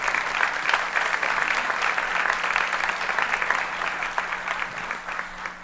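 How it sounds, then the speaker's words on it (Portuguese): Sustained applause from a large church congregation during a Sunday worship service, steady and loud throughout with dense overlapping claps. "eu queria que você, mais uma vez, aplaudisse o Senhor pela vida de Deus que flui na vida do Sérgio"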